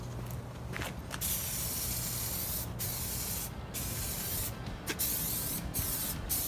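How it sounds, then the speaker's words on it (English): Aerosol spray can of generic primer sprayed onto plastic parts of a Honda 300EX quad, with a steady close hiss that comes in several short bursts separated by brief pauses. "you just spray it on before you go ahead and start spraying away"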